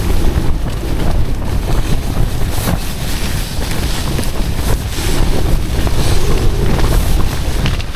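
Strong wind buffeting a microphone at a tent campsite, a continuous loud roar and rumble with gusting swells and no break, close and overwhelming everything else.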